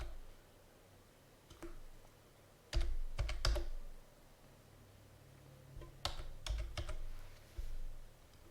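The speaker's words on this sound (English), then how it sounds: "So let's type in that password number" A password is typed on a computer keyboard in a few short bursts of crisp, close key clicks, with quiet gaps between them.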